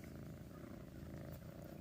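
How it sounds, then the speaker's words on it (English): A kitten purrs close up in a steady, continuous low rumble that fills the whole stretch without pause, with no talking over it. "That purring really works"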